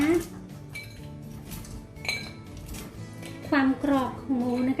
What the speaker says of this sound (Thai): เสียงคลึกๆพอใส่จานเสียงมันจะเป็นแบบนี้นะคะ ว่าหมูกรอบมากเลยนะคะ